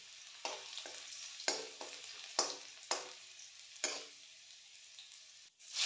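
Soft sizzle of garlic frying in oil, punctuated by several sharp scraping stirs of a spatula at irregular intervals, fairly close and moderately quiet.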